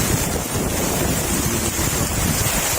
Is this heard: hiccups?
no